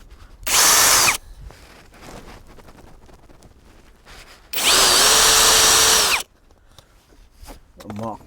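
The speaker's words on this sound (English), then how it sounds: "I've got a 4mm drill which will fit through my holes." A power drill with a 4mm bit bores holes for wall plugs while a garden gate is fixed, giving two loud, close bursts of high whining drilling, with quieter handling and talk between them.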